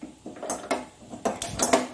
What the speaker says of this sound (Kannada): ಒಂದು ಬಾಣಲೆಯನ್ನು ಇಟ್ಕೊಳ್ಳೋಣ.